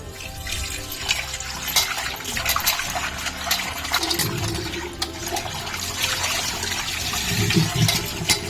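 Water splashes and sloshes in a basin as dried fish is rinsed by hand, with running water and irregular swishing, close by.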